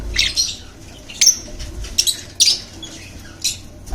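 Pet birds for sale chirp in short bright bursts scattered across a few seconds, several calls overlapping against a low steady background hum, no talking.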